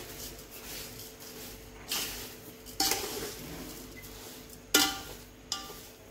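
Spoon or ladle stirring sugar into Satyanarayan prasad in a pan, with scraping and a few sharp metallic clinks against the pan, fairly quiet and close, no talking.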